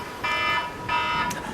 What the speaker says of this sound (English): No, that's the stalker alarm.